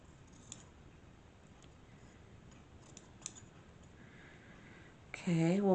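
Scissors trim a piece of sari silk in a quiet craft setting: a few faint, soft snips spread out over several seconds.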